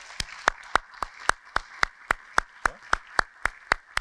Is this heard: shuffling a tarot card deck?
no